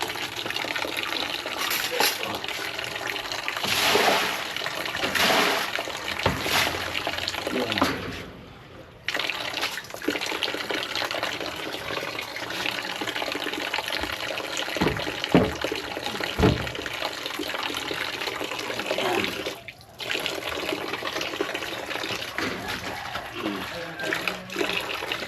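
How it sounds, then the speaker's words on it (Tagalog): Waste water is poured out and splashes onto the ground outdoors in a long, uneven gushing stream with brief pauses, near and fairly loud. "Kaya minsan dito ko itapon yung mga waste ko na tubig."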